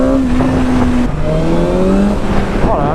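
A 2021 BMW S1000R motorcycle engine revs loudly and close, its pitch stepping up through several rising whines with brief drops between, a continuous high-revving roar and no talking heard.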